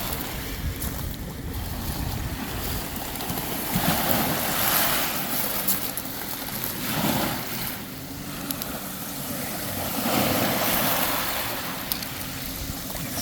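Surf washes in on a Marco Island, Florida beach, a continuous broad rush of waves rising and falling in slow swells, with wind buffeting the microphone.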